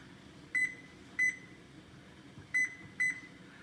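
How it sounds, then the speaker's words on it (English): Kitchen timer being set while making minestrone soup, four short sharp electronic beeps in two pairs, close and clear over faint room hum. "And then I'm going to set the timer"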